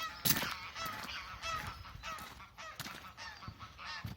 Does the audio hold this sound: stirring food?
no